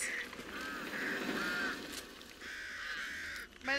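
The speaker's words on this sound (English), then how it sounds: "Don't go near the birds!" Birds in the Back 4 Blood video game give repeated harsh, honking caws at moderate loudness, several calls in succession over a steady ambient backdrop.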